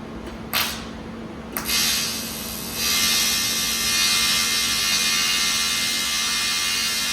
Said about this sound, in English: We're gonna weld this thing with this TIG 200 square wave.